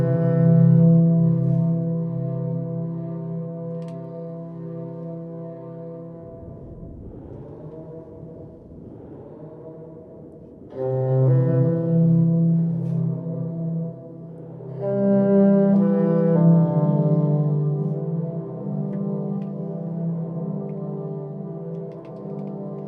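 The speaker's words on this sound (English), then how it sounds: "it'll kind of stir up the sound and output reverb made from that sound" Reverb pedal building ambient pads from a guitar's input sound, sustained harmonic drones that swell, fade into a murky dip and return in layered waves, with no talk.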